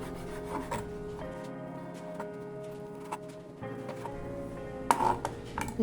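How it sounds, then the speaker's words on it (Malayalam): Knife rasping through bread to trim off its sides for cheesy chicken pops, a series of short scraping strokes with soft knocks against a board, close and fairly quiet without speech. "ഇതാ ബ്രെഡ് ഇവിടെ റെഡി ആയിട്ടുണ്ട്. ഇത് നമുക്ക് എടുത്ത് മാറ്റാം. ഇതിൻ്റെ സൈഡ് ഒന്ന് കട്ട് ചെയ്ത് കൊടുക്കുക."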